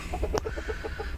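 Hens packed into a small cage cluck in a quick, steady series of short, close notes, about eight or nine in little over a second, over a dense background hum.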